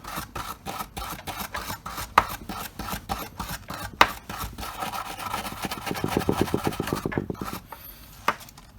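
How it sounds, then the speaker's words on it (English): A cloth rubs dirt off a metal Danelectro guitar pickup cover in quick, rhythmic back-and-forth strokes, close and fairly loud, with a few sharper knocks between the passes. "let's see if I can wipe the rest of that crap off of there"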